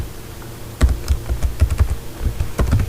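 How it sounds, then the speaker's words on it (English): Quick bursts of typing on a computer keyboard while entering an address into a web browser, irregular clusters of clicks close and clear over a faint steady hum. "So what I'm going to do is just go over to the web browser"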